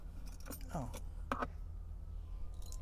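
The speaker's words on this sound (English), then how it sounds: "Some keys and a screw." Keys jangle inside a car at a salvage auction lot, a few brief metallic clinking bursts close by over a steady low engine-like hum, with some faint voice-like sounds mixed in.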